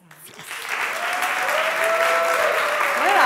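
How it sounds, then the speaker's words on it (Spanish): An audience at an intergenerational summer camp event claps in steady applause that swells within the first second and stays loud and full, with voices and cheers mixed in. "Coge un poco de aplauso"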